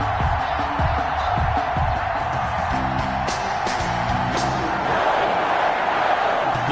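A stadium crowd roars steadily in an EA Sports NFL video game matchup between the Minnesota Vikings and Green Bay Packers on PS4, a dense, continuous wash of cheering with brief sharper peaks.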